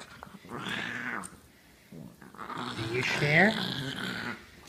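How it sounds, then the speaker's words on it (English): An angry dog growling over a bone at home, with low sustained growls that rise into sharper snarling whines, close to the microphone, while a person speaks in between. "Just filming an angry dog."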